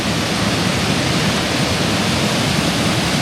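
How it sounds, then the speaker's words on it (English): A waterfall in Tennessee roars with a steady, dense, close rush of falling water, loud and unbroken, with no voices over it. "At the waterfall."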